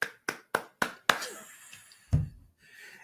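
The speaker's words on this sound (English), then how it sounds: "Applause time." A handful of sharp, evenly spaced hand claps ring out at a conference, five quick strikes in a steady rhythm, followed by a softer stretch with a dull thump and faint background murmur.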